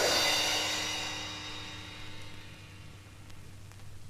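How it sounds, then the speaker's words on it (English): A single orchestral cymbal clash rings out loudly at the start, then its bright shimmering wash decays slowly over four seconds, alone with no talk. "If you want a good clash, well, you can't beat the cymbals"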